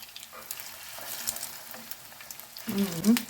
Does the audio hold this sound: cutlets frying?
yes